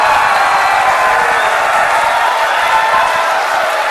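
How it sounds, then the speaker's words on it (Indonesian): A loud, continuous wash of audience applause and crowd noise at the 2014 Indonesian presidential debate between Jokowi and Prabowo, sustained evenly with no speech over it. "Kita berikan tepuk tangan."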